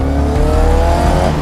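A speeding orange sports bike roars past close by, its engine a loud, strained whine climbing slightly in pitch during a short burst.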